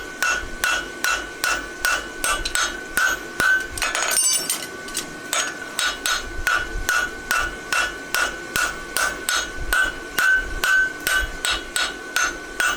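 Steady, rapid hammer blows on a horseshoe on an anvil, ringing metal strikes repeating about three times per second, close and loud, with no voices.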